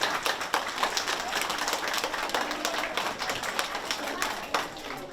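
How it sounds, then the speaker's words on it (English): Audience at a senior center Veterans Day ceremony claps, a fairly quiet scattered patter of hands with uneven bursts, heard from some distance for several seconds. "how about a great round of applause for our young men and women?"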